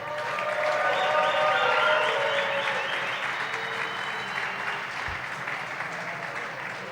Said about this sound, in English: Let's give him a happy birthday round of applause.